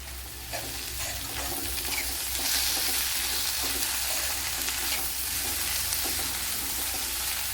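Chopped tomato added to onions frying in a pan for an egg curry, giving a steady loud sizzle with occasional stirring scrapes throughout, no talking.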